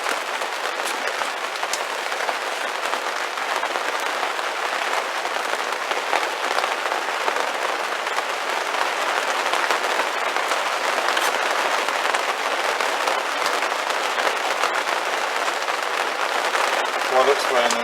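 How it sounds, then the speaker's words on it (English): Rain patters steadily on a new garden polytunnel, a dense, even hiss that holds at a constant level for the whole stretch with no talk over it. "While it's raining."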